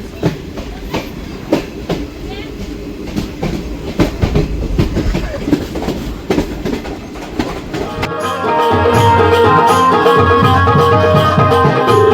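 Train on the Konkan Railway between Mumbai and Ratnagiri, heard from onboard with steady rhythmic clickety-clack of wheels over rail joints that gives way to a louder, sustained rumble and hum, with no talking.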